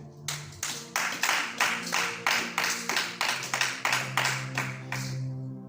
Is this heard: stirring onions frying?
no